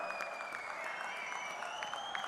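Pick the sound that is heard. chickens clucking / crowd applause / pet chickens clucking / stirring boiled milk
crowd applause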